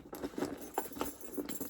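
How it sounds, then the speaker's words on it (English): Keys with an AirTag attached jangling and clinking in quick, light bursts, quiet and close, with no voice. "My keys. I have an air tag on my keys."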